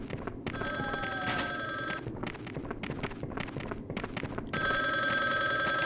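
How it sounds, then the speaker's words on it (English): Telephone ringing in the video game Resident Evil Survivor, a loud electronic bell rings in repeated bursts with pauses between, heard alone over steady game ambience. "Alright, let's answer the phone."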